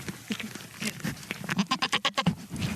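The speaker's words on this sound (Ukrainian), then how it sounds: "30 кіз вдосталь напаслися та нагулялися" A herd of about thirty goats driven by a sheepdog, bleating repeatedly and overlapping at close range, with calls coming in quick succession and growing busier toward the middle.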